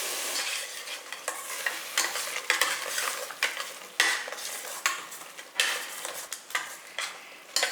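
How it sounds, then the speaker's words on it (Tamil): Ground tomato paste with masala for a chicken gravy sautéing in a pan, a continuous close sizzle with repeated scraping stirs and light metal clinks of the spoon against the pan. "பச்சை வாசம் போகிற அளவுக்கு நல்லா வதங்கட்டும்"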